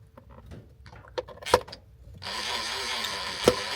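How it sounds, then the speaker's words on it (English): A power drill backs small screws out of the corners of a golf cart screen housing, with short quiet whirring bursts and clicks, then a longer steady hissing whir, all fairly faint and close. "just grab your drill and take these 4 very small screws out of the corners here."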